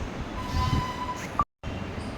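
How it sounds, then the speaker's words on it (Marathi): Rumbling train noise from a Mumbai suburban train from Goregaon to CST, with a thin metallic whine, then a brief cut to silence before the rolling rumble resumes. "आता मी गोरेगाववरनं ट्रेन पकडली आहे"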